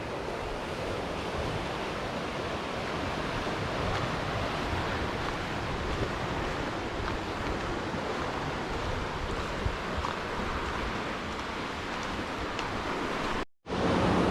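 Ocean waves wash steadily onto a beach in Capurgana, Colombia, a constant broad surf roar mixed with wind noise, with a brief sudden dropout near the end.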